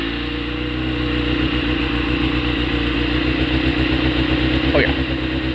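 A motorcycle engine runs with a steady low rumbling idle, close and fairly loud, its pulsing exhaust beat continuing throughout with a faint higher whine near the end.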